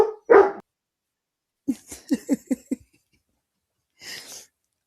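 Several dogs bark indoors: one sharp bark, then a quick rapid run of about six barks, followed later by a softer huff, all close and clear with no talking over them.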